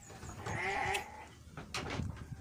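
A Garut sheep bleats once or twice from a livestock pen, fairly faint against low background noise.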